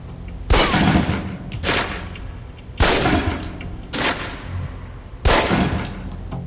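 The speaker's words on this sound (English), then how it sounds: "Equip the pistol, then aim down range and take some shots at the target." Pistol fired at a target on a shooting range in the video game Alpha Protocol, five loud, sharp shots spaced about a second apart, each trailing off into a short echoing decay, with no talk.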